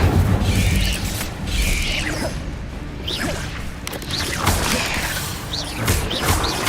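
Fire spell being cast in Hogwarts Legacy during a fight, with repeated whooshing bursts and booming impacts that overlap one another in a dense, continuous rush of combat noise.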